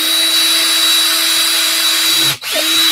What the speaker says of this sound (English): when you're drilling this, hold down the plexi so you don't get extra dust underneath your plexi